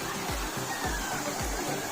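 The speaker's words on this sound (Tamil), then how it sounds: "ஒரு நீர்வீழ்ச்சியே இங்கே வந்துக்கிட்டு இருக்கு." Water falls like a small waterfall inside a tunnel on a tea estate, a continuous rushing hiss with faint repeated low thumps underneath and a voice talking over it.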